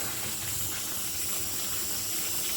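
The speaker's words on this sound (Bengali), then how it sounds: "এইভাবে পাঁচ মিনিট করে করে আমি পনেরো মিনিট এমনভাবে সিদ্ধ করে নিচ্ছি" Chicken leg pieces boiling in a covered pot give off a steady, close hiss of steam and bubbling, constant and moderately loud with no talk.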